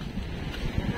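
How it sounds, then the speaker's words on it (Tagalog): Strong, gusty seaside wind with high waves during a storm, a steady roaring rush of wind buffeting the microphone throughout. "Hangin na, mahangin na."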